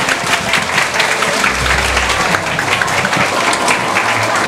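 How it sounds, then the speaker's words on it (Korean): Dense, steady applause from a seated audience fills the room as a speech instructor is welcomed at an offline interview-preparation lecture for postal civil-service candidates, loud and continuous throughout. "큰 박수 부탁드립니다"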